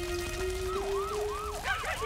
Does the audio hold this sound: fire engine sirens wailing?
yes